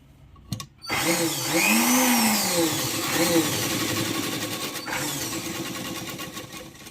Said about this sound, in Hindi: यहाँ फिर सीधी सिलाई कर लेंगे